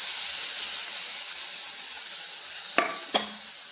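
Bitter gourd cooking in a pan hisses and sizzles steadily as tamarind water is added, with two sharp clinks of a spoon against the vessel near the end while it is stirred.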